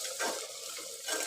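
Keema stirred and fried in oil with spices in a pan, giving a steady close sizzle with soft scraping swells from stirring, no talk.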